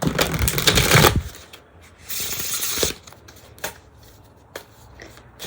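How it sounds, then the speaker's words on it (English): Tarot cards are riffle shuffled in two quick crisp bursts of rapid fluttering, followed by a few light taps and clicks, close up. "The cards are very nice to handle. Pretty good riffle shuffle too."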